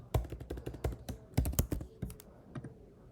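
Code being typed on a computer keyboard: a quick, uneven run of crisp key clicks close up, thinning out toward the end, with no talk.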